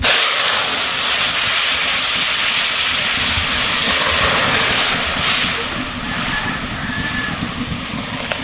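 Lentils tipped into a hot pan for a tomato dal hiss and sizzle loudly and steadily, close by, with the sound easing slightly toward the end.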